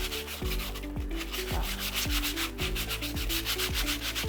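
Scrap wood being rubbed by hand with sandpaper in steady, even back-and-forth strokes, close and continuous with no voices.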